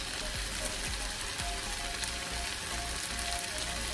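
Chicken and rice cook in a pan over medium heat for baked rice with chicken, giving a steady, even sizzle that fills the background throughout without any talk.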